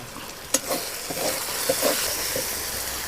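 Turmeric and Kashmiri chilli powder fry in oil in a pan, a close sizzle broken by a sharp clack and several stirring scrapes in the first half, then a steady hiss.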